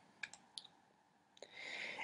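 Computer mouse clicks on an OK button come as a few sharp, quiet clicks spaced apart, followed by a soft rustling hiss near the end.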